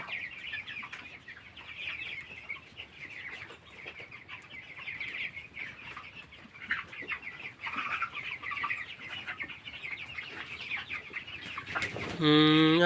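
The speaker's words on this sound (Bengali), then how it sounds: "আছে মুরগিগুলো" Chickens at a small backyard hobby poultry farm raising broiler birds, steady soft clucking and chatter from the flock throughout, with a brief louder call near the end.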